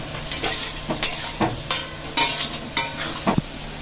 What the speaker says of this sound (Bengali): কাজু কিশমিশটা লাল লাল করে ভেজে নেব।